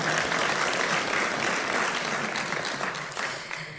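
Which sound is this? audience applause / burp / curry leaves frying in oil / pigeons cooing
audience applause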